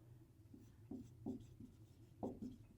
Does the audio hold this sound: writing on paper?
yes